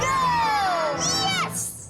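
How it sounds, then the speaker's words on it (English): Crowd cheering sound effect from a radio insurance advert set at a baseball game, a short burst of excited shouts and whoops with rising squeals, loud and close, playing beneath a voice. "And the crowd goes wild."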